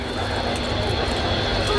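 The Avro Vulcan XH558 bomber taxis at RAF Waddington, its jet engines giving a continuous broad rumbling roar from some distance, with a public-address voice talking over it.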